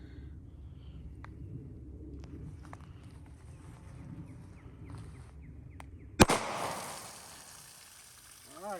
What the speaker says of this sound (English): So I'm gonna load that up, shoot this jug, see what happens.